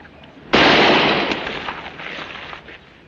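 Gunfire in a western TV episode set in a store, heard as one loud sharp report followed by a long decaying, crackling echo, standing alone with no talk.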